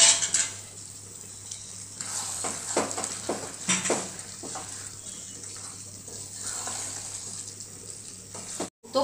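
Mutton sizzles as it is sautéed in a pan, with a continuous frying hiss broken by clinks and scrapes from stirring against the metal.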